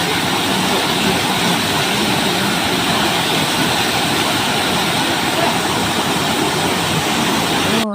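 Strong rushing water from a waterfall pool at Barangay Abijilan, a loud, steady broadband roar filling the whole stretch without a break.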